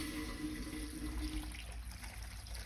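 A window-well sump pump runs and pumps out water, giving a steady, faint rushing, gurgling flow throughout with no talk.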